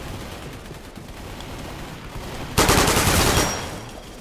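Video-game gunfire from a running shooter, a sudden dense burst of rapid automatic shots that holds for about a second before fading.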